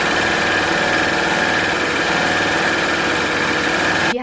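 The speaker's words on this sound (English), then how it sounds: "So that's your standard 4-thread overlocker stitch." A Baby Lock Acclaim overlocker running a standard 4-thread stitch, a steady fast mechanical whirr held at constant loudness for about four seconds before stopping abruptly, close and clear with no talking.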